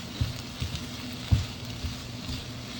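Spinach cooking down in a pan to release its water gives a soft, low sizzle with a few dull stirring knocks and pan taps, faint and steady throughout with no voices.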